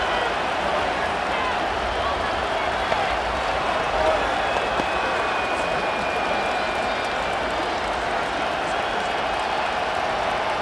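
Stadium crowd roar in the Madden NFL 25 video game, Giants against Commanders on PS5, a steady loud wash of cheering that holds throughout without pause.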